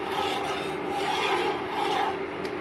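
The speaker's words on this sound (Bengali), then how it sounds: "মাঝে মাঝে নাড়তে থাকতে হবে যাতে দুধটা নিচে না ধরে যায়।" A spoon scrapes and rubs continuously around a pan of milk heating on a gas or induction stove, a steady close rasping texture with no pauses.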